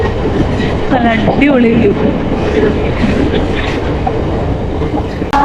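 A MEMU passenger train travelling from Varkala to Kanyakumari rumbles steadily along the rails with a loud continuous roar and rattling carriage noise heard from inside, while a voice speaks briefly over it.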